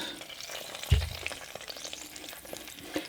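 Big pork chops dropped into deep-frying oil, a steady crackling sizzle with a soft thump as one goes in, close and alone with no talk.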